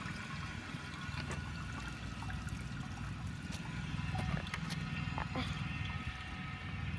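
A Briggs toilet with a blocked jet flushes in a continuous, rushing wash of water that stays fairly constant and grows slightly fuller midway, with faint splashes on top.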